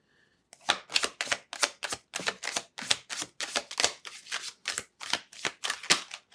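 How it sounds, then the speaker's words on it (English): Tarot cards from a zodiac-themed deck being shuffled by hand, a close, steady run of crisp riffling bursts at a quick, even rhythm, alone with no talking. "let me shuffle it"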